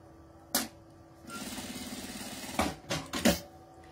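Sewing machine stitching a nylon seam: one short burst, then a steady whirring run of rapid stitching, followed by several brief clattering bursts close up, with no voices.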